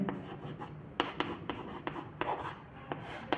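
Chalk or marker strokes on a classroom board during a chemistry lesson, a series of short scratchy taps and rubs in irregular rhythm, faint and close, with no talking.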